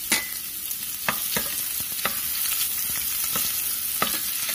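Shallots and garlic sauté in a pan for sambar with a strong, steady hiss of frying throughout, broken by a series of sharp spoon scrapes and taps, close and consistent with no speech.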